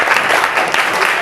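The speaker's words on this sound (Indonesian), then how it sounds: "tepuk tangan dulu." Students in a classroom clap together in a steady, dense patter that fills the short moment, moderately close and evenly sustained throughout.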